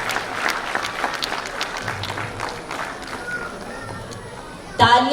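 An audience at a school annual day, Millennium Star Kids School, claps in sustained applause mixed with crowd voices, ending in a sudden louder burst of clapping.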